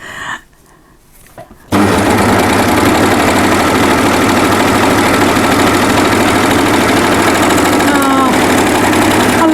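An overlocker (serger) stitches the seam of a fabric drawstring bag, its motor starting after a brief quiet moment and then running in a loud, steady, fast mechanical hum with rapid needle chatter until the end.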